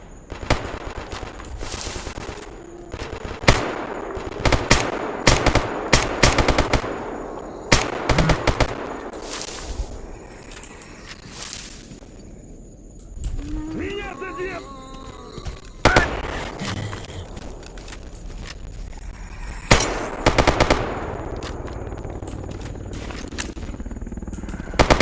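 Rapid bursts of gunfire from shooting zombies in the video game Escape From Pripyat, with repeated loud volleys and short pauses between them, plus brief faint scuffling in a quieter middle stretch.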